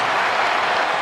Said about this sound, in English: The crowd trying to get into it.